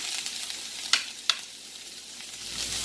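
Shrimp frying in a pan for fried rice, a steady close sizzle with two sharp utensil clinks near the start, no voices.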